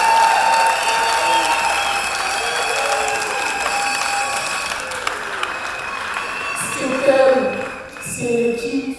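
Applause for a team at a youth gathering, broad crowd clapping under a steady electronic hum, with a voice breaking in near the end.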